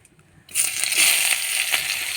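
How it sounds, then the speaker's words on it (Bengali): Two medium chopped onions drop into hot oil already tempered with dried chilli and whole cumin, bursting into a loud, sustained close-up sizzle after a short quiet start. "সেই পেঁয়াজটা দিয়ে দিলাম। পেঁয়াজটাকে ভেজে নেবো লাল লাল করে।"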